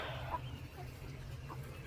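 A few faint, soft clucks from chickens come through a quiet background, scattered and brief.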